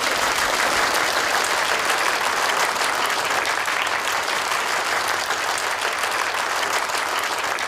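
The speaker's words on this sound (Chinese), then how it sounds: "掌声欢迎" Sustained applause fills a celebration banquet marking a corporation's twentieth anniversary as the company president is welcomed to the stage, steady and dense clapping from a large crowd with no talk over it.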